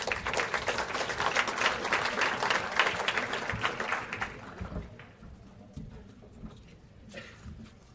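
Dense, sustained applause fills the hall at a university athletics awards ceremony, a crowd clapping loudly for about four seconds before it quickly dies away to scattered claps and room noise.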